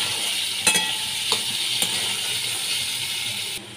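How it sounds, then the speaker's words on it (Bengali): Potatoes frying in oil make a steady, moderate sizzle with a few sharp clicks of a utensil, then the sound drops off abruptly near the end. "আলুগুলোকে আমি ভালো করে লাল লাল করে একটু ভেজে নেব।"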